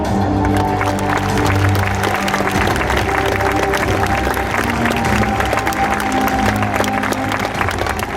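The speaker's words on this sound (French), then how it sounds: "Applaudir." Steady applause from a crowd at a fire brigade intervention simulation, continuous clapping that stays loud and even throughout over a low mechanical hum.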